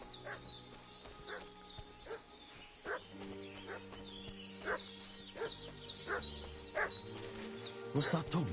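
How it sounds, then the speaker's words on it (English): A dog in the video game Kingdom Come Deliverance 2 barks repeatedly at an irregular pace, moderately distant, over a quiet ambient game soundscape with sustained tones. "What's that dog making such a fuss about?"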